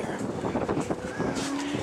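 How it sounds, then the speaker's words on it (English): Steady wind buffeting outdoors, a broad rushing roar with gusty swells throughout and no speech. "That's windy as shit out here."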